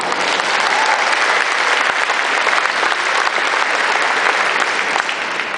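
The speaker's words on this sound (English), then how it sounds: "that deserves a round of applause" Faculty and staff in a university gathering break into sustained, loud, even applause that fills the room from start to finish.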